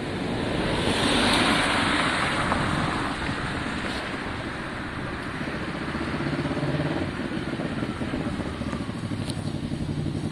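Kawasaki ER6n streetfighter motorcycle exhaust rumbling steadily nearby, a loud continuous engine drone with broad noisy roar and slight swells in level, no talk over it.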